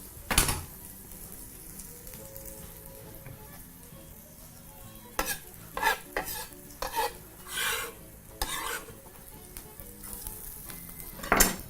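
Grated ginger hits a hot pan for a beef curry and sizzles softly, broken by a string of quick scraping stirs and utensil knocks against the pan.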